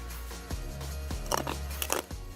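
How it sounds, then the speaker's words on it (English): Crunchy kale salad with sunflower seeds and croutons being eaten up close, giving several distinct crisp bites and chewing crunches in a quick, uneven rhythm with no talking. "crunch from the sunflower seeds"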